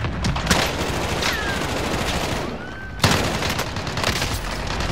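Rapid bursts of explosions and gunfire from a cluster strike in the video game Call of Duty: Warzone, a dense, continuous crackling barrage with a sharp louder blast near the middle.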